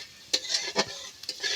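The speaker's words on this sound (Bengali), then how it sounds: "আমার আদা রসুনটা লাল লাল করে ভাজা হয়ে গেছে" Ginger and garlic frying in a pan until reddish, with a soft steady sizzle broken by several sharp scraping stir strokes and light clinks of a spatula against the pan.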